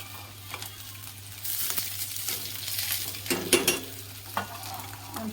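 Peanuts and green chillies sizzle in hot oil for poha while being stirred, a steady close frying hiss with a few louder scraping stirs and no talk.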